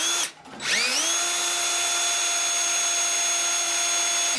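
A power drill with a titanium bit bores into tubing, a brief dip, then a steady high-pitched motor whine with clear tonal overtones held close and loud.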